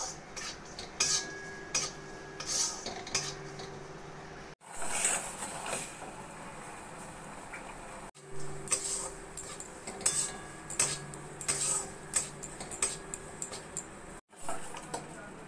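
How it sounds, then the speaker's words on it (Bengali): Metal utensil scraping and clinking against a pan as gram flour is slowly stirred over a low flame for besan barfi, with repeated soft scrapes and taps in uneven rhythm, close and moderately quiet, no talking. "এদিকে বেসনও আমি লো ফ্লেমে আস্তে আস্তে নাড়া দিতে থাকবো।"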